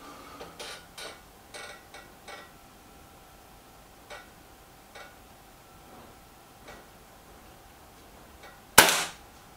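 A single air rifle shot, a Gamo Boxer or Weihrauch HW110, cracks loud and sharp near the end, after a run of faint ticking clicks, with no voices.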